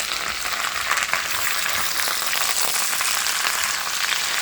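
Vegetables stir-fry in olive oil in a hot pan, giving a loud, close, continuous sizzle with dense crackling throughout.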